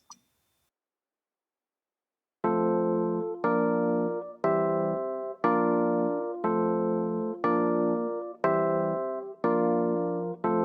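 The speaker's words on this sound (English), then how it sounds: "this piano was from EZ Keys, and the piano name is Dream Machine" EZ Keys Dream Machine piano plays a makossa chord progression, with eight evenly spaced, sustained chords that each ring out bright and full. A short faint blip comes first, then a gap of silence before the chords start.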